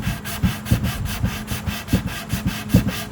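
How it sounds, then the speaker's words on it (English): A sanding sponge scrubs back and forth over a pine guitar body, making a rhythmic, raspy swish on each stroke, about four strokes a second, close and loud with no talk. "So as you sand, you can see it start to curve."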